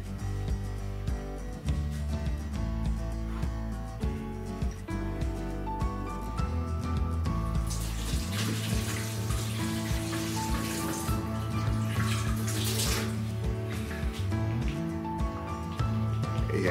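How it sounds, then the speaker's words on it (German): Water runs into a cooking pot, a steady splashing pour filling most of the stretch, close and fairly loud with some clatter, no talking. "jetzt tue ich Wasser in den Topf rein."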